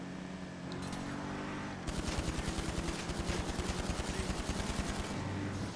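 Rapid automatic gunfire in Grand Theft Auto Online, a steady stream of close, loud shots over a vehicle engine drone, with a short pause before the burst and no talking.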